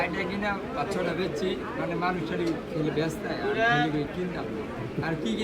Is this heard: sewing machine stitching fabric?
no